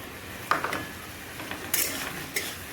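Spiced curry with turmeric, cumin and chilli stirred in a pan, a few sparse scraping clinks of a utensil against metal in an otherwise quiet kitchen.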